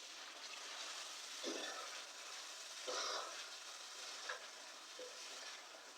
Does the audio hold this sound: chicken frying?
yes